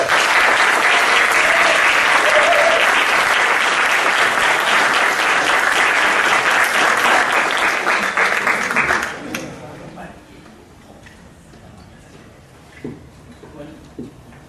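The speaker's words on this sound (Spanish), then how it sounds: "Entonces los invito a tomar asiento y un aplauso para ellos." An audience at a book launch applauds loudly for about nine seconds before the clapping fades out, leaving a quiet room with a few scattered sounds.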